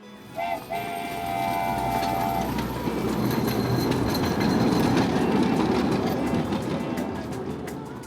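A steam train ride rumbles along Semaphore Beach in Adelaide during a Holi festival, a steady loud rolling clatter with a brief whistle-like tone near the start.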